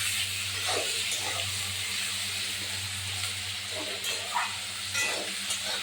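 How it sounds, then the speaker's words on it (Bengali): Chopped onion, green chilli and tomato fry in a pan, a continuous close sizzle and hiss with occasional stirring scrapes and a low hum beneath. "পেঁয়াজ কুচি লঙ্কা ভাজা হচ্ছে"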